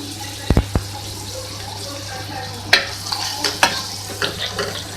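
Beef keema with ginger and lemon juice sizzles in a pan while being stirred, a steady frying hiss broken by a few sharp spoon knocks and scrapes, close up.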